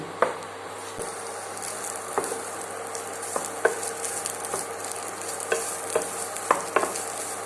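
Indian gooseberries fry in a pan for tambuli, a soft continuous sizzle broken by irregular scraping stirs of a spoon, close and moderately quiet, with no speech.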